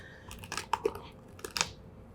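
Kitchen scissors crunch through the bones of a raw turkey being spatchcocked for smoking, giving a close series of sharp, uneven crunches and snaps, several loud cracks standing out over a quiet background.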